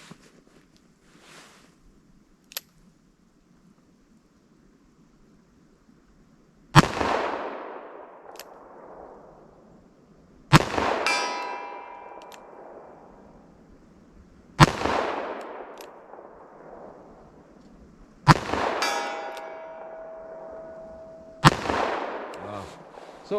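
Five loud pistol shots from .45 ACP and .44 Special rounds crack out at a slow, deliberate pace several seconds apart, each echoing and decaying outdoors, with faint quiet stretches before the first shot.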